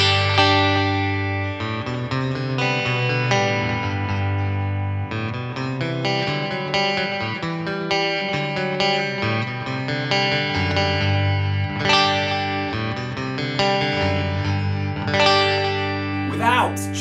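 A Gray Guitars Emperor electric guitar with the neck pickup engaged plays a run of chords and notes with a warm, effected and slightly distorted tone, loud and close throughout.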